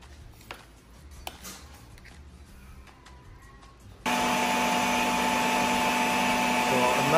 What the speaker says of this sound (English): So another time of blending it, kasi we want it everything smooth